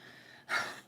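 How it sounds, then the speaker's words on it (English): A single heavy, breathy exhale or snort from a dog, close by, rising suddenly after a quiet moment and fading away. "If you hear heavy breathing, it's Tequila behind me."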